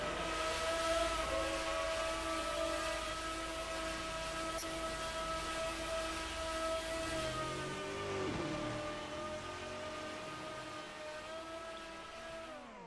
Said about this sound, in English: Where's that engine sound coming from?